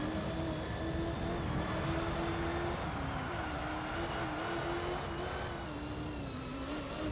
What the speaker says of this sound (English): by the sound of it, this has to be a GT40, right? Yeah. I recognize that growl.